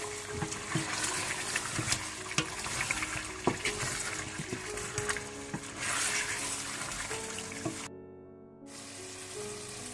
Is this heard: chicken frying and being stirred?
yes